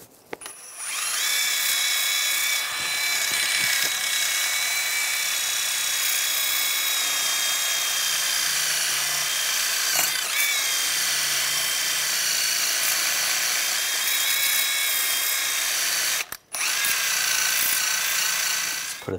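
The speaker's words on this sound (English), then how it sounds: "Just gonna take a wire brush and just clean up the inside of here" Wire brush scrubbing corrosion from the inside of a rear hub knuckle on a 2003-2008 Infiniti FX35, a steady loud whirring grind that runs almost continuously, with one brief pause near the end.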